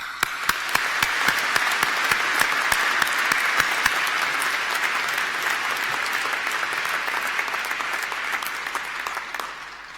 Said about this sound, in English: please join me once more for a huge round of applause for those staff